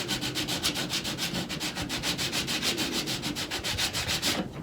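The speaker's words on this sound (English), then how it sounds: "if you put the sandpaper around something that's already square, it'll help you sand it a little bit better" Sandpaper wrapped around a square block rubs back and forth over a wooden table leg, a fast, steady rhythmic scratching of close, even strokes that stops abruptly at the end.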